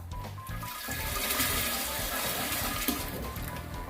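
A clogged toilet gets a dose of caustic soda, followed by loud continuous rushing and gurgling water, like a flush churning steadily in a bathroom bowl throughout.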